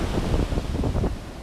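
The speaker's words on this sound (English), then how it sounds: "And I'm looking at these waves," Ocean waves washing onto a beach under steady wind buffeting the microphone, a continuous loud rumble of surf and gusts with no other sounds.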